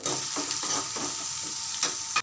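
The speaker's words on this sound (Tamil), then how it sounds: "இதில் வந்து சின்ன வெங்காயம் சேர்த்து வதக்கிக்கிறேன்" Small onions with ginger garlic paste sautéing in a pan for a Chettinad chicken masala, giving a steady close sizzle with soft stirring scrapes throughout and a sharper clank just before it ends.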